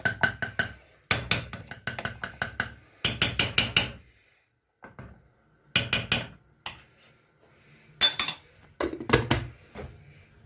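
A spoon scrapes and clanks against a pot while a dessert mixture is stirred, in loud clustered bursts of rapid metallic strokes broken by short pauses.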